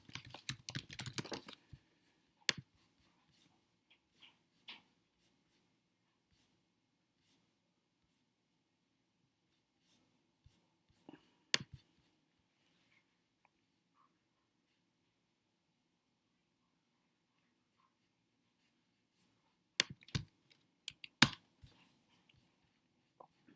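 Bursts of keystrokes come from a computer keyboard while someone writes CSS code, with scattered clicks and long quiet gaps between them, faint and close.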